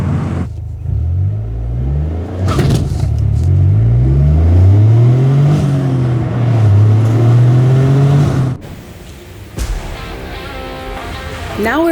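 A 2023 Toyota GR Corolla's turbocharged engine pulls hard under acceleration, a loud rising drone that climbs in pitch over several seconds before cutting off abruptly, with a voice speaking briefly near the end.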